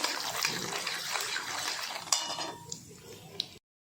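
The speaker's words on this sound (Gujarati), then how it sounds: "મગફળીના બિયા નાખી દઈશું આ રીતે, જેથી કરીને મગફળીના બિયા કાચા ના લાગે તેટલા માટે। તેને આ રીતે શેકી લઈશું થોડું" Raw peanuts roast in a pan for homemade kanda poha, a quiet kitchen scene of soft scraping and stirring with occasional sharp clinks of a utensil against the pan.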